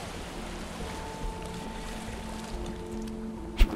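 A constant wash of surf and waves rolls on at a beach in the survival game Miscreated, with a faint tonal hum underneath, ending with a brief sharp knock.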